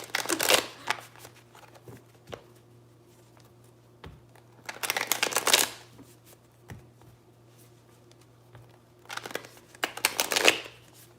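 Tarot cards shuffled by hand close up, in three separate bursts of riffling and flicking with quiet gaps between them and a low steady hum underneath.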